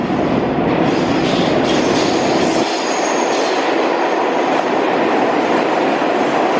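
A New York subway train runs loud and close, a continuous roaring rush of wheels and rails with high squealing edges; the low rumble drops away partway through while the harsh noise carries on.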